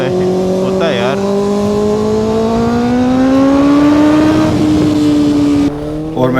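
A car engine strains under full throttle while pulling with a rope in second gear, a loud, sustained droning whine rising slowly in pitch for several seconds before dropping off near the end.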